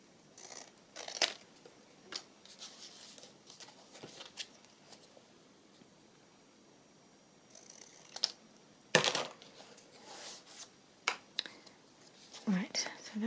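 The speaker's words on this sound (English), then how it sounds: "I'm going to risk cutting it with my scissors." Scissors snip through card for a Christmas journal, a few faint, sparse cuts and rustles in a quiet room.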